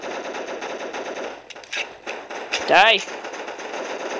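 Gunfire in the zombie survival mode of the mobile shooter Block Strike: rapid automatic shots run under a player's voice, with a burst of chirping effects in the middle and a short spoken word.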